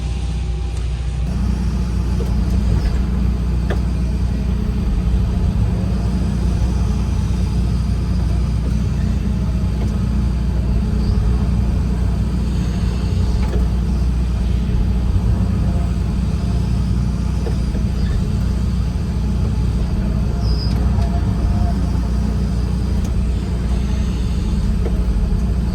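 Steady low engine rumble of a heavy truck idling nearby while delivering granite crusher-run gravel, a constant deep drone with faint mechanical noise above it and no voices.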